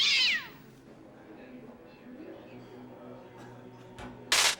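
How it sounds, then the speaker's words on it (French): A hungry house cat gives a short, loud meow at the start, then a quiet stretch of room noise, ending in a sharp burst of broadband noise. "Étienne, tu peux pas donner à manger au chat, tu vois pas qu'il a faim."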